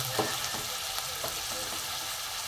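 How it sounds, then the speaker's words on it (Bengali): Potatoes fry in a pan with a constant hissing sizzle, punctuated by a few soft scraping stirs and light clicks of a spatula at close range. "আলুটা একটু ভালো করে ভেজে নেব"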